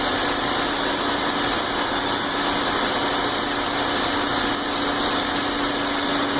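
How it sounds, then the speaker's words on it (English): Lexus IS300 engine with only a couple hundred miles on it, warmed up and idling: a steady, even hum with a mid-pitched whine, recorded close and alone for several seconds. "There you go on the Lexus IS300."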